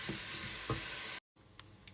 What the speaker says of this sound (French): Lorsque c'est bien revenu, on rajoute les lentilles et on remue.